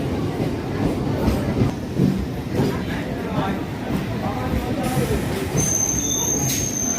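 A train on the line from Kakdwip station toward Kolkata rumbles along with steady rolling clatter and occasional high squeals, loud and close, while someone talks over it.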